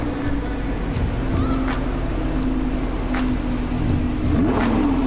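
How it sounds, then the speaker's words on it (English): A Lamborghini Urus SUV engine drones steadily close by, with a brief rising rev near the end, under outdoor ambience and some faint background voices. "Got the Lambo truck here."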